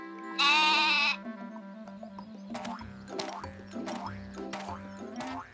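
A cartoon goat in an animated children's series lets out one loud, quavering bleat, followed by a run of bouncy, springy cartoon-like sounds over a steady low tone.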